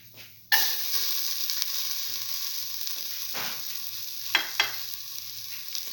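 Garlic hits a hot frying pan with a sudden loud sizzle that settles into a steady hiss, with a few soft clicks of stirring, close by and with no voices.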